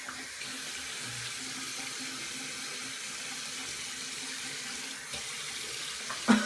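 A straight razor, a Muhle R89 Shark Attack, being rinsed under a running tap, with water splashing steadily into a sink, moderately close, ending in a brief clunk and no talking.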